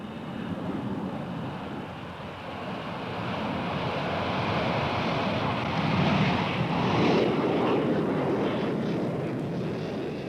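A steady, broad roar from an RAF Falcon aircraft passing overhead, swelling slightly toward the middle and holding loud throughout, with wind rushing across the microphone.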